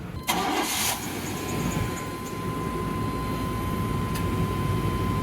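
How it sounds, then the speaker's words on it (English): Air conditioning compressor kicking on in a 1998 GMC OBS pickup, a sharp click and clunk followed by a steady engine idle hum with a faint constant whine running underneath. "Heard the compressor."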